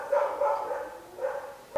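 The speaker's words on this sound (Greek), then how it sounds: "Μισό λεπτάκι λίγο να σταματήσουν το ρεσιτάλ τα σκυλάκια" Small dogs barking at home in Athens: a few sharp, fairly close barks in an uneven rhythm, with a short gap and one final yip at the end, and no talking.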